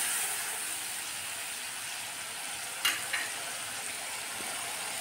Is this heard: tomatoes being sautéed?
yes